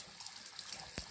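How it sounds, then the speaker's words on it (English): Water runs through the inlet line of a gas water heater whose inlet ball valve is not closing fully, making a faint, steady hiss, with a single soft knock near the end. "Yep, it is flowing with water."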